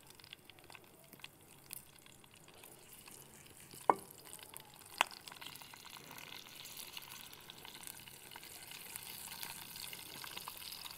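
Red and green chilies roasting in hot oil for a daal tarka, a soft steady sizzle with faint crackles, a couple of sharp clinks of a utensil against the pan, and no voices.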